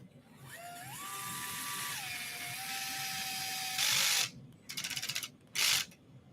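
Power screwdriver with an adjustable clutch driving screws into a plastic RC car bumper, a steady whine climbing and settling in pitch, then two or three short loud clutch-ratchet bursts near the end.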